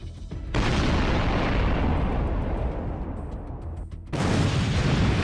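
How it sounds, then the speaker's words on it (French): Rockets from Russian multiple rocket launchers explode around Bakhmut in a continuous heavy roar of blasts, dense and rumbling, easing slightly before another powerful burst near the end. "Des centaines, voire des milliers de projectiles explosent, détruisant maisons et arbres"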